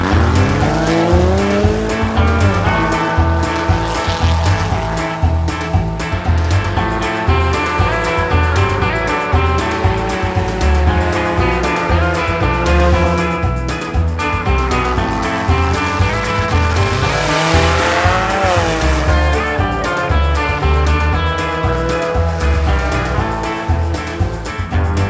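Toy race car doing practice laps on a racetrack, loud and continuous for the whole stretch, with a steady engine whine that rises and falls and some tire squeals mixed in, and nobody speaking.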